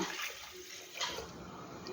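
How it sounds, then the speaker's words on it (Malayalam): Five glasses of water pour into a pot for Karkidaka porridge, a steady rushing splash that runs throughout at moderate level. "ഇനി ഒരു അഞ്ച് ഗ്ലാസ് വെള്ളം അതിലേക്ക് ഒഴിച്ചു കൊടുക്കാം"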